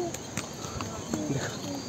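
Horse hooves clip-clop along the stone pilgrimage trail to Kedarnath, a few scattered hoof strikes ringing out over a noisy outdoor background while people talk nearby.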